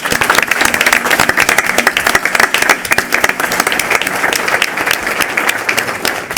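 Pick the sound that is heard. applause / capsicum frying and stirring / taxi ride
applause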